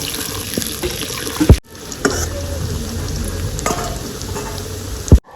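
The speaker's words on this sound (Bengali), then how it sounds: "আলুটা তেলের মধ্যে দিয়ে দেবো আলুটাকে আমি লাল লাল করে ভেজে নেবো" Potatoes frying in hot oil until browned make a loud, continuous, watery crackle, broken by a couple of sharp knocks and clatters from the pan.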